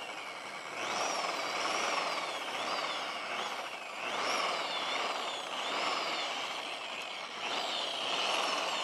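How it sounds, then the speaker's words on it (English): Power polisher working the surface of a BVM Super Bandit RC jet, its whine rising and falling in repeated passes of a second or two as the trigger is feathered, close and fairly quiet. "we're just gonna keep going with the polisher"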